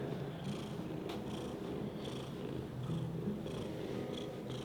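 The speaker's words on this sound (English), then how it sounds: "You hear him purring?" A pet cat purrs close up, a steady low continuous rumble running through the whole stretch without any talk.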